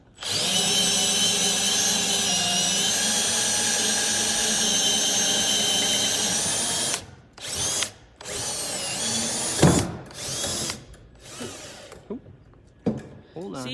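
A drill with an auger bit bores into wood for coat-rack work: a loud, steady high whine for several seconds, then stops, followed by short bursts, clunks and quieter handling noises.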